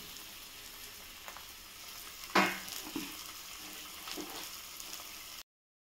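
Prawns frying in a pan, giving a steady soft sizzle with one sharp louder spit of hiss near the middle, then quieter crackling that fades out.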